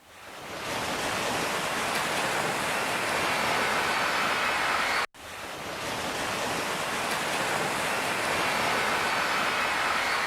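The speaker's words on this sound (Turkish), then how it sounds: "Dev dalga da işte tam o anda geldi." A giant, tsunami-like wave surges into a seaside restaurant, a loud continuous roar of rushing water and surf that fills the space, briefly cutting out midway before resuming at full force.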